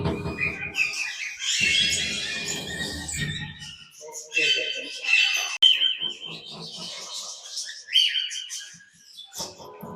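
Parrots chirp and whistle inside an aviary being readied for winter, a busy run of close, overlapping tweets, squawks and calls with brief pauses between bursts.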